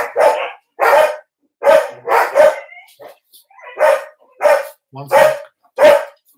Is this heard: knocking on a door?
no